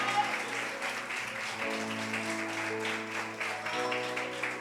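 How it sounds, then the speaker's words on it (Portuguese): Congregation applause at a Brazilian Portuguese church service, continuous clapping throughout with sustained music or organ-like tones underneath, moderately distant and even in level. "dê um aplauso ao Senhor"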